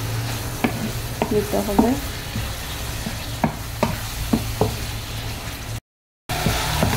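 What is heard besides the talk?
dried hilsa pieces frying and being stirred with spices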